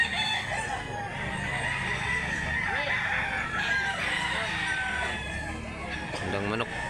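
Roosters and gamecocks crow and cluck amid a busy poultry sale in Mantalungon, Barili, Cebu, with steady crowd chatter underneath and a sharp crow rising near the end.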